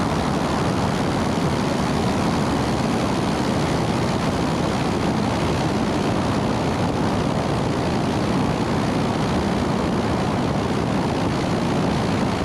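A light propeller plane drones loudly and continuously over Lake Buchanan, heading out to practise off-field landings. The engine and wind noise form a dense, unbroken roar that fills the whole stretch without letting up.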